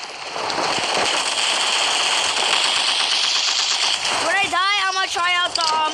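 Heavy, loud repeated firing from a tank gun in the video game Polyfield, dense rapid blasts throughout, with a voice shouting over the final seconds.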